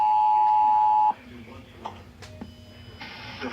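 Steady, loud Emergency Alert System attention tone on NOAA Weather Radio that cuts off after about a second, followed by faint radio background with brief beeps.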